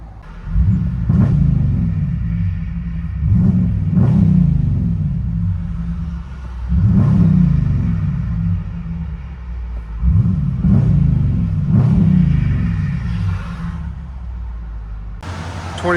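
Inside the cabin of a 2026 Dodge Durango GT with a 5.7-liter HEMI V8, Black Widow exhaust and muffler delete, a deep muffled exhaust rumble swells with four throttle rises and settles back to idle.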